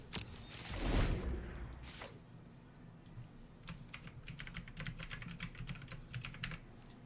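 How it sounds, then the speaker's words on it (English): Typing on a computer keyboard, a brisk patter of quiet key clicks in irregular bursts, preceded by a soft rustle. "Alright, doing a little typing."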